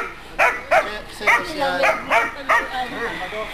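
A dog barks about six times in short, evenly spaced yips, fairly close, with faint background chatter in between.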